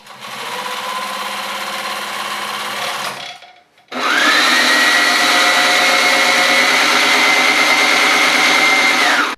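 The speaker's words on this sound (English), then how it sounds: "The machine is quite a bit louder than a typical household machine." A Sailrite Ultrafeed LS-1 sewing machine runs loud and steady for about three seconds, stops briefly, then starts again and keeps running at a higher, harsher whine. Nobody speaks.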